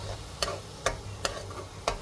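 Fresh mint leaves lightly sautéed in a pan, with four sharp stirring scrapes at a steady rhythm over a soft continuous sizzle, close and clear.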